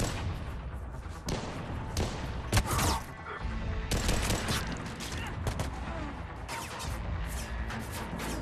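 Sustained gunfire and explosions in a Mass Effect 3 video game battle, dense bursts of rapid shots with crashing impacts, loud and continuous throughout, with occasional voices underneath.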